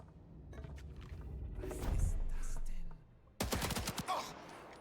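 Gunfire in the Indiana Jones and the Great Circle video game: a sharp burst of several rapid loud shots near the end, after a stretch of rumbling ambience and a louder swell in the middle.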